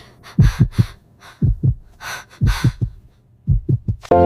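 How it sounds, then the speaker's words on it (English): Strong, quick heartbeat thumps in pairs, close and loud, with soft breathy sounds between groups of beats. "My heart is beating fast."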